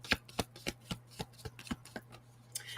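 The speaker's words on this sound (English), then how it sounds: "I am going to use the Moonology Oracle." A Moonology Oracle card deck is shuffled in a quick run of crisp riffling snaps, about ten sharp bursts at a fairly steady rhythm over a low steady hum, close and clear with no talking.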